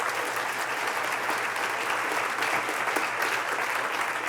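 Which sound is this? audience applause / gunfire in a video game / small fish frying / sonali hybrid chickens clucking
audience applause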